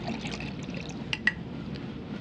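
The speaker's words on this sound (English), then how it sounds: "A little water." Water trickles softly into a glass at a dinner table in a 1942-style radio drama scene, a low, faint steady pour with a couple of brief clinks partway through.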